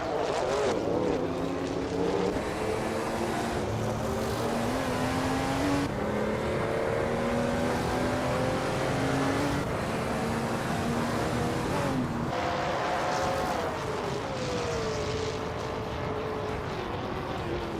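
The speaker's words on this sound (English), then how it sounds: "Maya is leading the race in a 1995 Chevrolet Camaro IMSA" Racing engine of a 1995 Chevrolet Camaro IMSA race car in a racing video game, a steady high-pitched engine whine that climbs in pitch through repeated gear changes, close and continuous.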